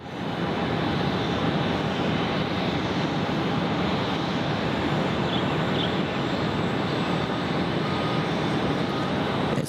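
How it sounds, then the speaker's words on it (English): A Boeing 787 airliner on final approach to runway 14 at Gold Coast Airport, a steady, broad jet engine roar that holds at a constant level throughout, heard from a distance. "And here comes our 787 now, Kurt"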